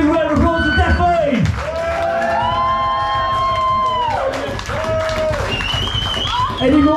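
A pub concert audience at Kings Norton cheers and claps for a band, with shouts and whoops rising over scattered applause. Loud voices call out across the room the whole time.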